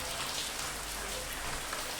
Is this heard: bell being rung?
no